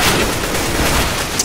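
Dense, loud gunfire in CS:GO, a continuous wash of overlapping shots with a sharper crack just before the end.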